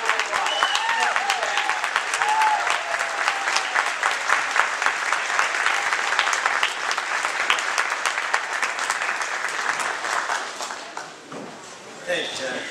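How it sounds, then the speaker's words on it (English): A rally audience bursts into a long, loud round of applause, many hands clapping densely for over ten seconds before it thins out and fades near the end. "Let's give him a large round of applause."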